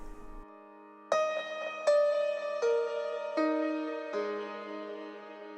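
Piano run through a CLA-2A optical compressor, sounding five sustained chords in succession, each struck clearly and ringing into the next with an even, warm level and no voices.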